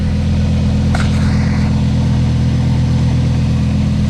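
A 2023 Lamborghini Huracan Evo, rear-wheel drive, sits idling with a steady, loud, close engine hum and one brief higher blip near the start.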